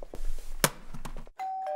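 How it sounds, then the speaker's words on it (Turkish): A doorbell rings once, a steady electronic chime that follows a few thumps and clatters of household activity indoors. "Menekşe, zili duymadın mı?"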